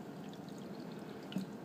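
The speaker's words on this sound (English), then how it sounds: "then I'm gonna take the big jug, pour it into the little jug" Kombucha pours from a big jug into a smaller jug in a short, steady liquid stream, close up and continuous with no talk.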